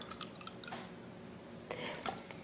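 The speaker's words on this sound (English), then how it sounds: "I'm going to take that water where I put the onions, put it in here" Water that held onions is poured into a container with soft trickling and a few splashy gurgles, faint and close, with no talking.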